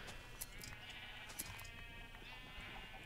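Faint Minecraft sheep bleat a couple of times with short bleats over a steady hissing background, all quiet and distant.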